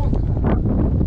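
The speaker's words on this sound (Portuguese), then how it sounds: "Thiago, tá ventando demais aqui." Strong wind blowing outdoors around an old house, a loud continuous rumbling buffet hitting the microphone with no clear talk.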